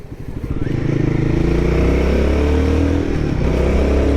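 A Guerrilla 450 motorcycle blips its throttle as it rev-matches and drops down to third gear on a mountain road, its engine climbing and then holding a loud, close, throbbing drone.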